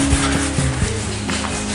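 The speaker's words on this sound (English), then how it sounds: "I'm sanding down the individual legs" Sandpaper rubs over the fibreglass legs of a giant black spider sculpture in a steady, close, gritty scrubbing run under a constant workshop hum, with no talk.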